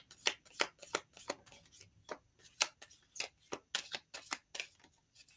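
Tarot cards are shuffled in a quick series of crisp riffles and slaps, fairly close and moderately loud, with short pauses between bursts and no talking.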